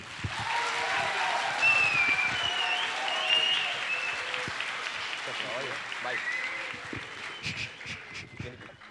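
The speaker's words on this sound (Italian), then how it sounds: "un bel applauso signori" Audience applause at a school event in Italy, with sustained clapping from a crowd that swells early, keeps going with some voices mixed in, then gradually thins toward the end.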